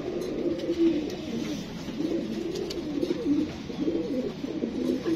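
A young pigeon coos in a steady, repeated rhythm, close and moderately loud, with faint chirps around it and no talk.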